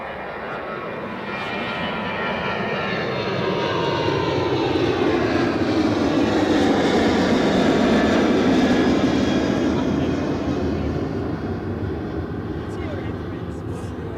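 A Ryanair Boeing 737 Max jet airliner at Edinburgh Airport passes close and loud, its engine roar swelling to a peak midway and slowly fading, with a voice talking faintly underneath.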